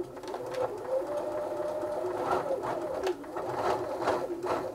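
A sewing machine running in reverse on straight stitch, a close, steady mechanical whir with rhythmic clicking stitches and brief pauses, no voices over it.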